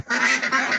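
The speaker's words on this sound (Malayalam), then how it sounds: "നമ്മളെ കുട്ടനാടൻ താറാവുകൾ കേട്ടോ" Kuttanad ducks give a single short, close quack of under a second.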